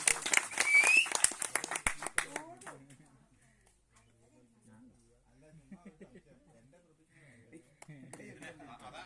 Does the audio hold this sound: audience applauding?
yes